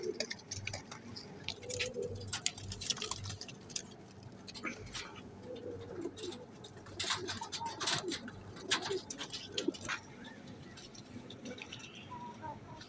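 Teddy frozpuri pigeons coo softly in a low, repeated burbling pattern, heard close amid sharp clicks and rustling from the loft, with occasional voices in the background.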